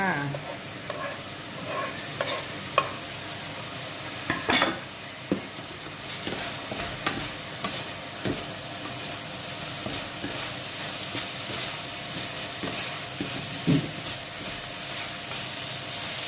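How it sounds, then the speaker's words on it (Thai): Bamboo shoots and shallots are stir-fried with meat in a pan, giving a soft continuous sizzle broken by scattered scraping and clinking of a utensil against the pan. The sound is close and moderate, with no talk. "พอเนื้อสุกแล้วยายก็ใส่หน่อไม้กับหอมลงไปค่ะ"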